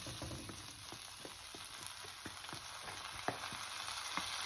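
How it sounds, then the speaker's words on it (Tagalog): Minced garlic fries in a pan, a quiet steady sizzle broken by soft clicks and taps of a utensil stirring, close and faint. "ilalagay ko na po ang minced garlic"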